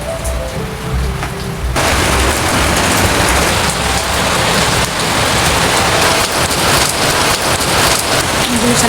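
Heavy monsoon rain pours down during flooding, a dense, loud hiss of drops hitting surfaces that grows heavier after the first couple of seconds and holds steady, close by, with no talking.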